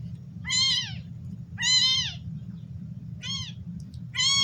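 A kitten meows four times in short, high, plaintive cries spaced about a second apart, up close over a steady low background rumble.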